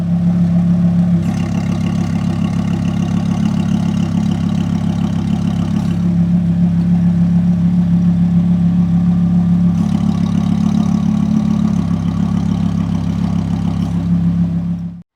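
An Audi R8 engine idles steadily with its exhaust valves switched by a remote control, giving a loud, continuous low rumble whose tone shifts slightly as the valves change, with no talk over it.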